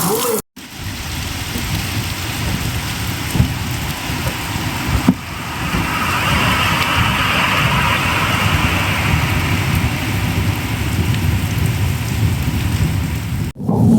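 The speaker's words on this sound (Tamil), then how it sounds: "அந்த அளவுக்கு மழை பெஞ்சிக்கிட்டு இருக்கு வெளியில." Heavy rain pours outside a moving express train from Mysuru to Tuticorin, a dense, steady hiss and patter that stays loud and unbroken for the whole stretch, with a low rumble of the carriage beneath it.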